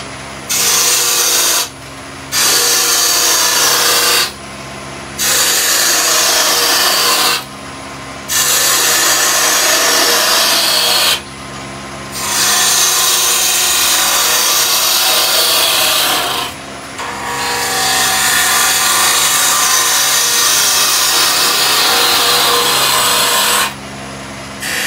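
A wood lathe spins a raised bowl as a gouge and skew cut the wood, giving loud rasping, scraping bursts that stop and restart in repeated passes with brief silent gaps.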